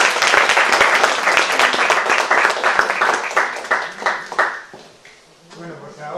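An audience applauds at the close of a lecture on Enlightenment-era women: loud, dense, sustained clapping for about four seconds, then thinning into scattered claps and fading.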